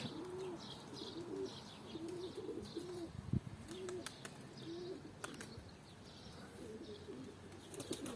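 Flock pigeons, tumblers that finished their flips, coo repeatedly as they settle back down to land after a flight, with soft rhythmic cooing throughout, a few chirps and brief wing flutters at moderate distance.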